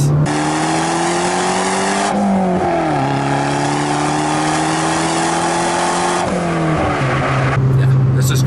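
A 2013 Fiat 500 Abarth's exhaust revs up and holds, dropping back briefly before climbing again, loud and close, with a sharp crackle near the end.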